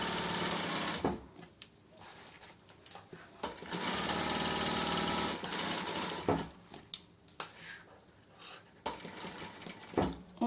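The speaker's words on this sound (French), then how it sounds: "ne pas hésiter à faire une petite marche arrière à chaque fois qu'on va rencontrer nos ourlets" A sewing machine stitches a cushion cover, running in loud sustained bursts with stops and short restarts between, close and without talk.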